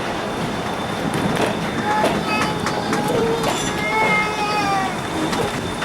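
The Black Hills Central Railroad tourist train runs between Keystone and Hill City with a steady loud rumble, a thin whine and wheel squeals, while a voice speaks over it.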